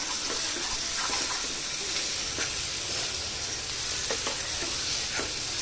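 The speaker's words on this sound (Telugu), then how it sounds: "ఇది మాడొద్దు, కలుపుతూ ఉండాలి." Coconut, poppy seed and masala sizzle steadily in hot oil for egg pulusu, with faint scraping from stirring scattered through the constant frying hiss.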